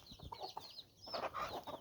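Several chickens cluck softly in short, uneven bursts, fairly close, with a few sharper calls mixed in and no talking.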